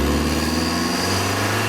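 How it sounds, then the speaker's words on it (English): A modified Abarth with roughly 230 bhp, fitted with an induction kit and pop-off filter, gives off a steady, loud engine drone with a strong low hum and intake whoosh, heard alone and unchanging throughout. "We're going to hear some noises from the front, from the induction kit and the pop-off filter."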